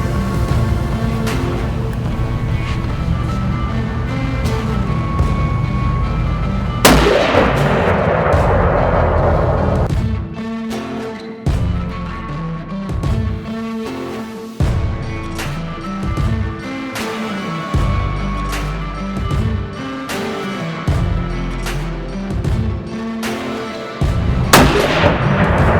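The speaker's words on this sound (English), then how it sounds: "let's get set up and we can get a few rounds down" Custom rifle shots at a shooting range ring out as sharp, loud cracks with broad echoing tails, arriving at irregular intervals over a rumbling, busy background, with a heavier burst near the start and another at the end.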